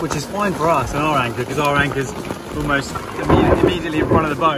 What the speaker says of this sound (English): That's the thunder going there.